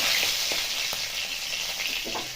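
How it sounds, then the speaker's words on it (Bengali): Green chillies and asafoetida fry in hot oil for potato chochchori, giving a steady close sizzle with a few soft scrapes and stirring taps from a spoon in the pan, no voices. "আরেকটা আমি দিয়ে দেবো এখানে হিং। একটু ভালো করে নাড়াচাড়া করে নিয়ে"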